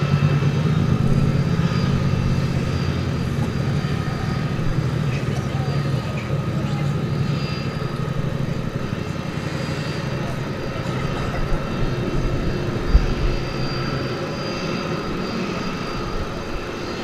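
A jet airliner roars steadily at DFW Airport at night, a loud, continuous engine rumble and whine that fills the whole stretch without letup.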